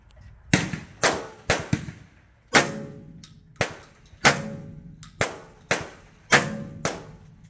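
Gunshots from target shooting at a gun club in Bradenton, Florida: about ten sharp, loud reports, spaced unevenly, some close together in pairs, each with a short outdoor decay.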